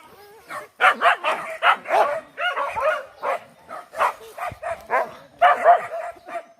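Hunting dog on a morning boar hunt in savanna country, barking and yipping in a rapid run of short, loud bursts close by, with a whimper among them and brief voices in the background.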